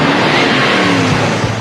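A car pulls up to collect someone, its engine loud and close with a steady revving roar that eases slightly toward the end; no voices.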